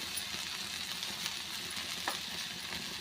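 Okra sautéing in a pan with lemon juice and salt, a steady soft sizzle running throughout with faint scraping from stirring, fairly quiet and close, with no voices.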